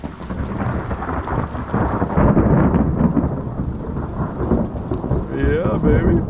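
Deep rolling thunder rumbles through a mountain storm, with rain hissing steadily underneath as the low roar swells and lingers.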